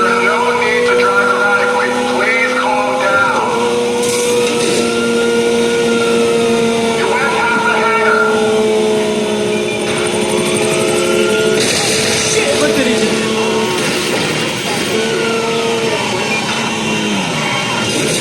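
A car races at speed through the streets of GTA 5 during a police chase, its engine note rising and falling through gear changes and revs, loud and close, with a voice talking over it at times.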